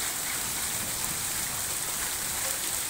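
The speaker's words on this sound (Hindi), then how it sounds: "आप देखिए बहुत ज़्यादा ही मात्रा में ओले गिर रहे हैं" Heavy hail falling on fields and houses in Sanoli village, Mundawar tehsil, Alwar district: a dense, unbroken hissing clatter of many stones, steady and moderately loud, with no talking.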